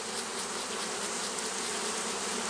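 A dense, steady buzz of honeybees on a brood frame of larvae during queen grafting, close and continuous without any voices.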